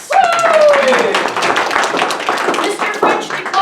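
Applause from onlookers at a HEMA fencing bout held on a promenade, honoring a fencer who declines a point; a modest crowd claps briskly and unevenly, mixed with voices and a whistle at the start.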